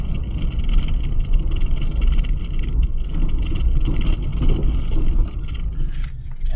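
Car driving over a bumpy dirt road, a continuous engine and tire rumble with a constant rattle and scraping jolts from the uneven surface, close and fairly loud throughout.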